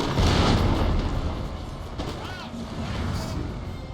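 Musket volleys and cannon fire from a Napoleonic-era battle in Napoleon Total War come as deep rumbling booms and crackling gunfire. The sound is dense and loud at the start, then settles into a lower, continuous battle roar with scattered distant shots.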